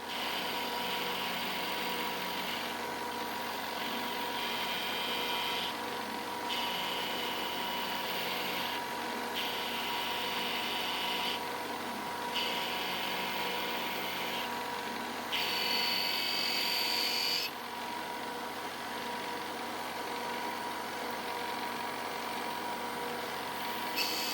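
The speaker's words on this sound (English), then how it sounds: "So next we're going to machine his radius out so it fits in there real nice." A milling machine cuts a radius into metal stock for a table saw fence indicator, giving a steady high whine and motor drone with periodic shifts in pitch as the cutter engages and passes through the metal.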